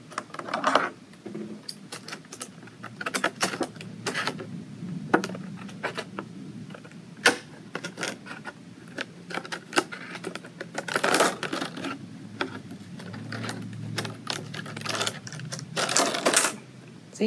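Scissors snipping a circle out of thin plastic, sounding as many small, irregular clicks and crisp cuts scattered through the stretch, close up, with faint rustling in between.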